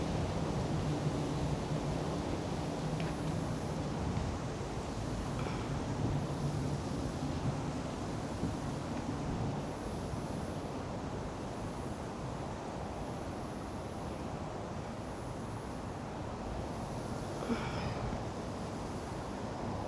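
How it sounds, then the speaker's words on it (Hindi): Steady outdoor wind rushes and buffets the microphone during a walk in Hong Kong, a constant broadband roar with no talk. "मौसम थोड़ा अच्छा हो गया है, हवा चल रही है"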